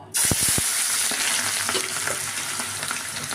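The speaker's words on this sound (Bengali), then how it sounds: "এবার পেঁয়াজ বেরেস্তাটা করে নেব।" Onions hit hot oil in a kadai for biryani beresta, a few quick clinks, then a loud, even sizzle that continues without a break.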